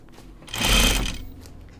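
A sewing machine driven by its foot pedal whirs up in one short, loud burst that swells and fades, with no talking over it.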